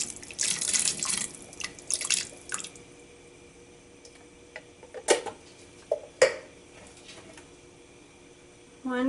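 Liquid drains from an opened can of corn into a sink: a few splashy pours and scattered drips, plus several sharp clinks and knocks from the can, close and fairly quiet.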